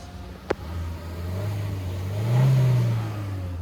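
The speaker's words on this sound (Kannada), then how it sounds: "ಇಷ್ಟು ರೈಸ್ ಮಾಡಿದ್ರೆ 3000 RPM ಮೇಲೆ ಮಾತ್ರ ಸೌಂಡ್ ಬರುತ್ತೆ ಕ್ಯಾಬಿನ್ ಒಳಗಡೆ" After a brief click, the petrol engine of a 2024 Hyundai Creta SX facelift idles, then revs up smoothly to a higher pitch and settles back down, heard from close by.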